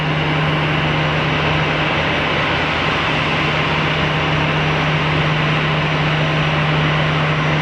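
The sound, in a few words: jet airplane taking off at Geneva Airport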